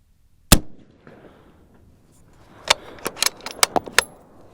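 A 6.5 Creedmoor rifle firing 130-grain ELD-M handloads gives one sharp report, followed by a cluster of quick, sharp impacts and clicks.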